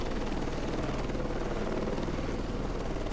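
A helicopter in the combat game Heliborne thrums with a continuous, dense rotor and engine drone, loud and steady throughout with no voices.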